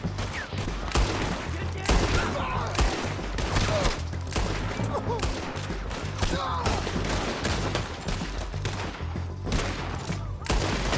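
Dense gunfire crackles throughout a Red Dead Redemption 2 shootout, rapid overlapping shots in a continuous fusillade with a low droning rumble beneath.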